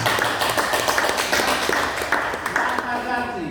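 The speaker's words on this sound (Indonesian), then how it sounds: "Bagus, tepuk tangan dulu untuk Inka." Students in a classroom clap for a classmate, a dense patter of many hands that is loud and close and mixed with talking.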